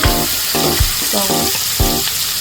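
Green chillies and mutton spices sizzling in a hot pan for gongura mutton, a steady loud frying hiss broken by a handful of regular stirring scrapes up close.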